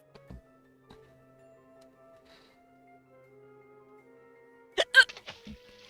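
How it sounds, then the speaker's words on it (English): A single sharp hiccup bursts out near the end, loud and close, followed by a few small mouth and throat noises, after a quiet stretch with a faint low hum. "That was a textbook hiccup."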